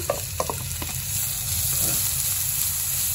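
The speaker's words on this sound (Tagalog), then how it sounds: "igisa na natin ang sibuyas at bawang" Onion and garlic sautéing in a pan for adobo ribs, a steady broadband sizzle with a few sharp spatula scrapes and taps early on, close and moderately loud with no talk.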